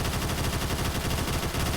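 Rapid automatic fire from a Tavor X95 rifle in Phantom Forces, a steady unbroken stream of loud, close shots at a slightly slow cyclic rate, with no voices.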